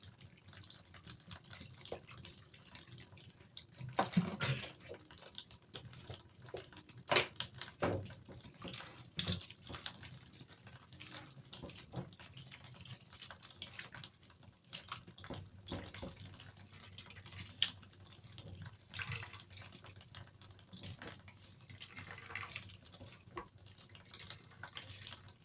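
Water poured into a basin to wash ingredients for achara, faint and intermittent splashes and trickles with a few sharper sloshes, close by and quiet, no talking.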